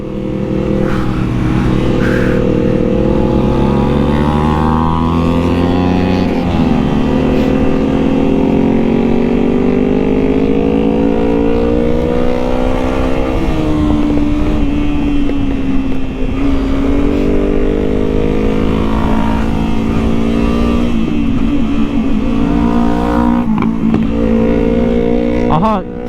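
A Yamaha R25 motorcycle roars through a tunnel, its engine droning loud and close with repeated rising revs and gear changes, the sound echoing throughout.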